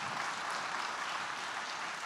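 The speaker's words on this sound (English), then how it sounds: "Can we have another round of applause, please, for Zadie?" Audience at a literary award ceremony clapping in a steady, continuous wash of applause, moderately loud with no talk over it.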